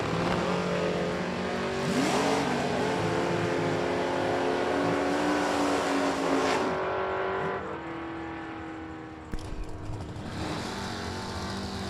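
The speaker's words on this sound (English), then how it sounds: "And that Fuel Factory first generation Camaro takes on Sierra Floyd in the right down, 6:38." A first generation Camaro drag racing down the strip at a summit fall event, its loud engine roaring steadily as it accelerates away, the sound fading and thinning after several seconds before another engine swells in.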